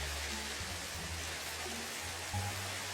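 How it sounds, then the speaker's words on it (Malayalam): Steady broadband hiss of rain falling in the Minecraft video game, a continuous even wash from start to end with low droning tones underneath and no talk. "നല്ല മഴയാണ് ഗായ്സ്."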